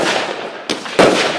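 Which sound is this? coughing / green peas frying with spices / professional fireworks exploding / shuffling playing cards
professional fireworks exploding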